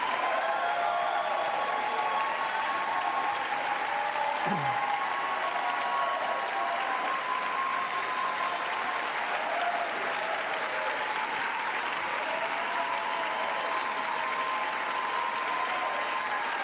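Audience applause in the chamber during the 2024 State of the Union, a sustained, even wash of clapping from a large crowd, steady and moderately loud throughout.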